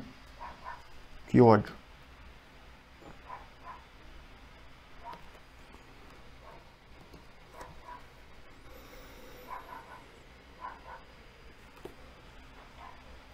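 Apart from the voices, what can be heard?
neighbor's dog barking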